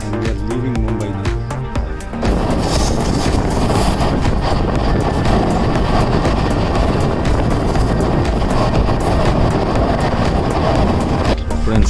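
A passenger train pulls out of Mumbai on a long-distance run to Kerala, its loud, steady rumble and rushing wind filling the space continuously after a brief quieter start.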